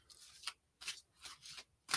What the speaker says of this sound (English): All right, let me shuffle 8 times for you.